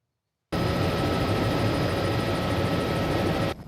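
A news helicopter hovers over a burning distillery during stormy weather, its steady loud rotor and engine drone starting abruptly after a brief silence and holding constant before cutting off.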